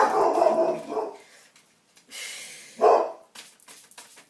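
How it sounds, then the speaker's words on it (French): A dog barks indoors in a few loud, sharp bursts separated by short pauses, with a voice speaking a word between them. "j'ai le chien qui aboie"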